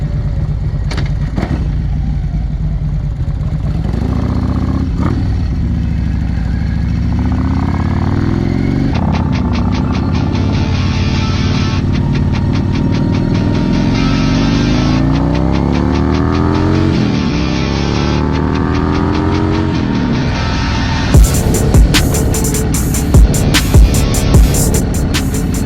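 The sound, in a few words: motorcycle riding on roads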